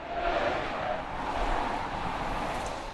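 A car on good tires runs an avoidance maneuver test, a steady broad rush of engine and tire-road noise heard from some distance, fairly even with slight swells, and no voices.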